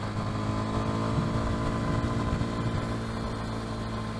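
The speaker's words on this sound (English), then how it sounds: "I love riding this damn bike." Close, steady engine drone from a Kawasaki KLX230 dual-sport motorcycle being ridden, holding an even hum with light wind noise throughout.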